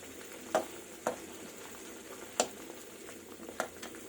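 A spoon scrapes and stirs food sizzling in a pan while mixing butter chicken, with a few distinct clinks against the pan over a soft frying hiss.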